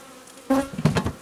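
Honeybees buzzing at an opened beehive with a frame of open brood, heard as a faint hum that swells into loud, close, wavering buzz bursts from several bees.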